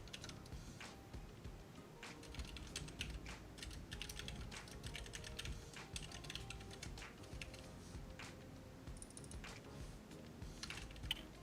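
Steady keyboard typing on a computer, a dense run of quick clicks and key taps throughout at close range, with no talking.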